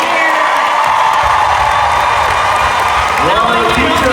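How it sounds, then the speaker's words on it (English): Audience applause and cheering for teachers at a live conversation event, a loud sustained crowd roar with clapping, whoops and shouts throughout, rising slightly toward the end. "Can we applaud the teachers who are here?"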